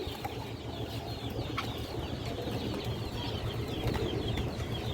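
Pigeons in a loft, a mixed collection of Bangladeshi Giribaz high flyers, give soft low cooing with light fluttering and rustling, continuous and moderately close, with no one talking.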